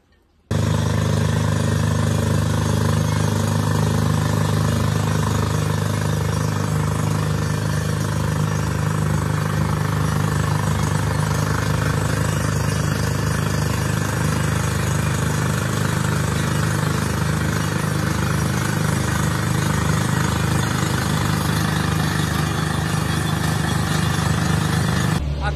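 A borewell drilling rig bores for water on a farm, its loud engine and drill roaring in a steady, unbroken drone from start to finish.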